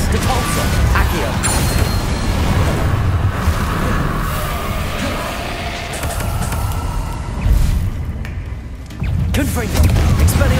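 Spell blasts, Confringo explosions among them, go off in the Hogwarts Legacy video game as a dense run of booms and crackling impacts over busy game noise, with a voice calling out spell names throughout.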